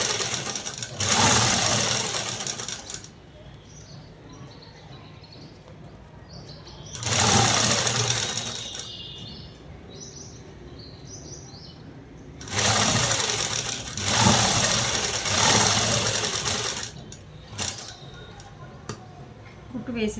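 A sewing machine stitches a long frock made from a saree, running in three or four loud bursts with quiet gaps between them. Someone talks softly in the pauses.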